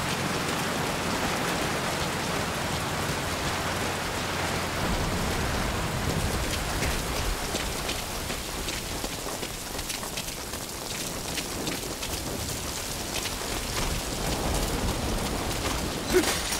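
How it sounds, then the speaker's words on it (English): Steady heavy rain in Metal Gear Solid V: Ground Zeroes pours down as a continuous, dense hiss of drops, loud and even throughout with no voices. "That rain just won't let up"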